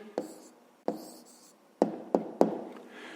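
A pen or pencil writing down a math answer for a fifth-grade exercise, with five separate taps and short scratchy strokes at uneven intervals, close and fairly quiet.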